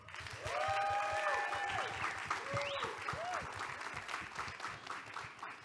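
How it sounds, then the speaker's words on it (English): Audience applause at a live show at Samsung 837, a dense steady clapping crowd swelling in and carrying on for several seconds, with some voices and whoops mixed in. "Let's clap it up for him"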